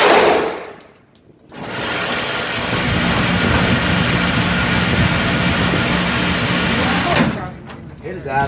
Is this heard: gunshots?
yes